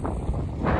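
Strong mountain wind near the Breithorn summit buffeting the microphone, a steady broadband roar that swells louder toward the end, with no voices.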